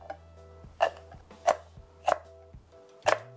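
Garlic, six cloves, being minced with a kitchen knife on a cutting board for stir-fried eggplant: four sharp, evenly spaced chops ring out up close over a low steady hum, with no talking.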